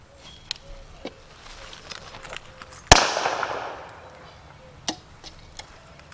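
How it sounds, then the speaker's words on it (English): A firecracker set off on a board under a cup goes off in a single sharp bang, with a noisy fizzing decay trailing for about a second, among faint scattered ticks and clicks before and after. "Firecracker on the board, gonna light it and place the cup over it."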